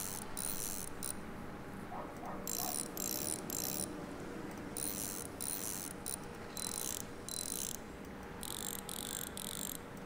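A ratchet dismantles a bus part in Bus Mechanic Simulator, sounding as bursts of rapid metallic clicking that start and stop repeatedly over a faint steady background hum.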